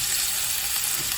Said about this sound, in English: it needs to sizzle